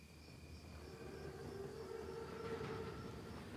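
A train arrives in a World War II video game, where a locomotive draws in with a steady low rumble and sustained whistle-like tones. It is fairly faint and continuous, and no one speaks.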